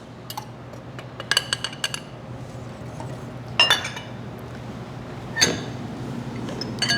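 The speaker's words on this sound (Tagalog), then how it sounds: "In your mixing bowl, mix all the dry ingredients." Dry cake ingredients being stirred in a mixing bowl, with scattered clinks and taps of a utensil against the bowl over a low steady hum, quiet and close, and no talking.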